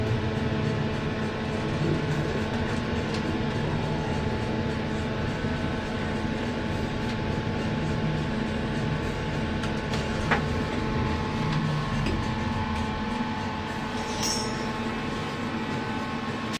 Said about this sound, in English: It's a bottom drive lift